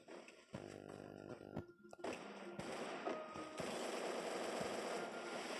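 Rapid gunfire bursts from a first-person shooting video game, loud and continuous with clattering shots and effects layered over a dense game soundscape, no clear talk.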